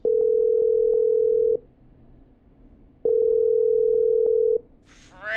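A ringback tone in the video game Killer Frequency, two long steady electronic tones separated by a gap, loud and clean, followed by a short rising electronic chirp at the end.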